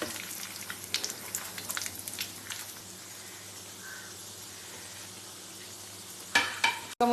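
A mutton keema and potato cutlet fries in a pan with a soft, fairly faint sizzle and light stirring that fades to near quiet, ending with a few sharp clinks and a knock.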